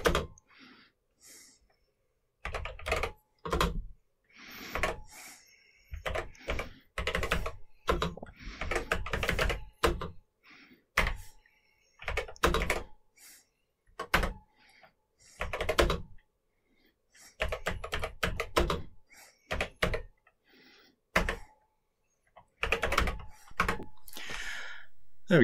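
Keys clatter on a Toshiba Pasopia retro computer keyboard in irregular bursts of rapid taps separated by short pauses, close and fairly loud, with no talking.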